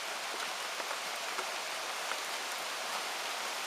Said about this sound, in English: Oh yeah, now it's going to start dumping. It'll be raining good and hard now.